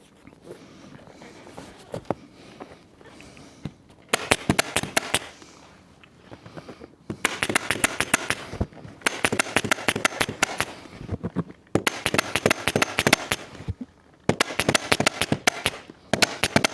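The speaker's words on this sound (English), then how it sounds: "I've just put a couple of pins in with my brad gun." A brad gun driving pins into chaise upholstery during reupholstering, heard as rapid clusters of sharp, close clicks in several bursts separated by brief pauses, with faint room noise between them.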